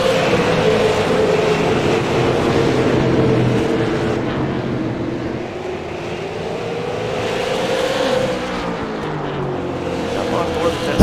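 Limited super late model race cars roar as they accelerate on a restart, engine pitch rising and shifting as the pack passes, with a commentator talking over the noise.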